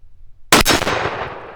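A single loud, close blast from a Stoeger Double Defense 12 gauge side-by-side shotgun fired at a target 17 yards away, a sharp crack followed by a long ringing decay.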